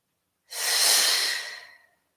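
A single deep breath taken in during a yoga session, a close, airy inhalation lasting about a second and a half that swells and then fades, with no other sound around it.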